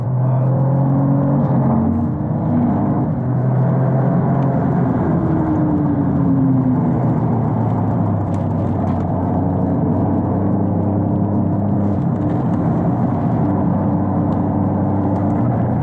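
An Alfa Romeo Stelvio Quadrifoglio on a race circuit, its engine droning loud and steady from inside the car with a rising whine as it pulls through the gears, no talking.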